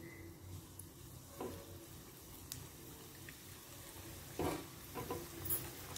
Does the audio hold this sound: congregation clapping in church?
no